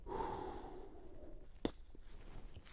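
A slow, audible exhale from a rifle shooter lying behind a Haenel CR6.5 on a bipod, a soft breathy sigh fading out, followed by a single sharp click.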